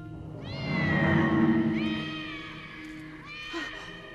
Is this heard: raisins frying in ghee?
no